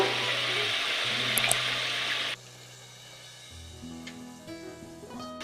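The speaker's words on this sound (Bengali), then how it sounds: "মশলা থেকে তেল ছেড়ে এসেছে এবার আমি পরিমাণ মতন জল দিয়ে নেব" Water pours steadily into the spiced oil base of a malai katla curry, making a loud rushing splash that cuts off abruptly and leaves quieter clinks and stirring behind.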